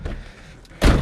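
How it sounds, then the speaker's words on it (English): Door of a turbocharged Mustang slammed shut with a single loud, close thump, after a brief lower-level bump. "I'll lock the door."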